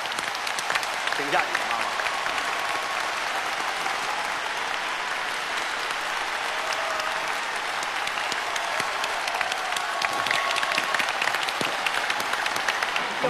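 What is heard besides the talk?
studio audience applause welcoming the singer's mother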